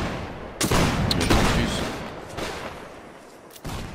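A ragged volley of musket-style gunfire on command in a Napoleonic battle game, loud overlapping bangs followed by a few scattered later shots and trailing rumble.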